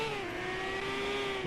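An IndyCar engine in a racing video game holds a high, steady redlining whine into a turn, a loud continuous buzzing tone with no talk over it.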